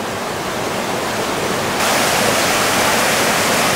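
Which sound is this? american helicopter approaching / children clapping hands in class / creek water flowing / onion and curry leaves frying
creek water flowing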